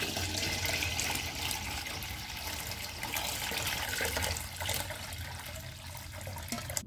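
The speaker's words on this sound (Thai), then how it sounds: "พอเราเทน้ำส่วนที่เหลือลงไปนะคะ" Drinking water pours steadily into a batch of grapes being prepared for natural-yeast wine, a continuous splashing rush that holds fairly loud and even throughout, with no talking.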